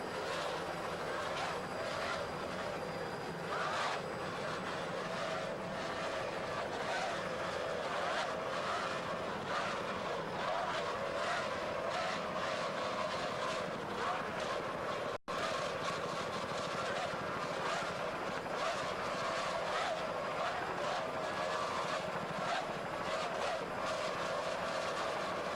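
Racing powerboats with 2.5 EFI outboard engines drone and whine continuously offshore at Key West, a loud, rough motor roar with wind and water noise, steady throughout.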